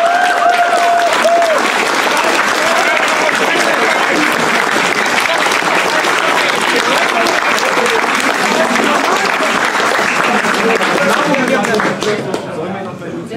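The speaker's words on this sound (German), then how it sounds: "Gebt euch den Applaus." Audience applause fills the whole stretch at a Poké Plaza community meetup, a dense, steady wash of clapping from a crowd that holds loud and even before thinning slightly at the very end.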